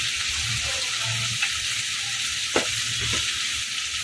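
Tomato and coriander curry for a Bengali kanda potol (pointed gourd) dish sizzles steadily in a pan while being stirred, with a few sharper scrapes of the spoon against the pan; there is no talking.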